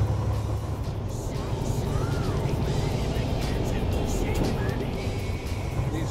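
A semi truck engine drones steadily and loudly as the rig pulls uphill while gears are shifted, a constant low rumble filling the whole stretch with no break.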